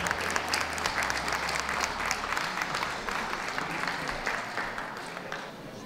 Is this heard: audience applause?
yes